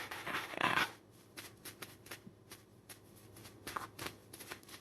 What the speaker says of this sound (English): let me just get a final card here.